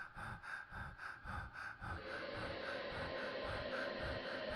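A recorded track of human breathing for music production plays as quick, rhythmic breaths repeated about twice a second, then turns into a steady, sustained rush of breath, close and fairly loud.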